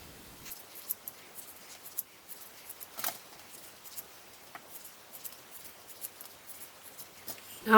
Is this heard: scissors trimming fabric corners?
yes